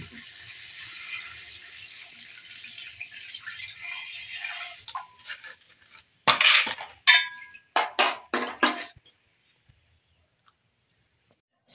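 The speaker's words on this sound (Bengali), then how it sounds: "যতটা পরিমাণে জল লাগবে আমি দিয়ে দিলাম।" Water poured from a tap or jug into a metal pot of chicken for biryani, a steady broadband rush for about five seconds, followed by several short clinks and splashes of pot handling before falling quiet.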